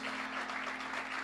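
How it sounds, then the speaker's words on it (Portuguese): Church congregation clapping together during a worship service, a dense, steady wash of applause filling the room throughout, with no voices standing out. "dando uma rica salva de palmas para o Rei Jesus"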